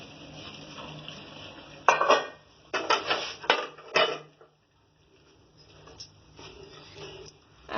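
Chicken pieces are rinsed in a metal pot with water, giving several clattering knocks and sloshing bursts, a brief pause, then more scraping clinks up close.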